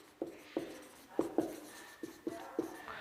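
An equation written by hand, a soft series of short scratching pen strokes on paper in an irregular rhythm, close and quiet, with no talking.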